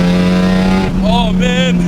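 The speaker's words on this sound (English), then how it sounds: "That VTEC cracks on so hard." A Honda K-series swapped engine with VTEC revs hard, its raspy note climbing and dropping in two sharp pulls over a steady idle drone, loud and close, with people talking over it.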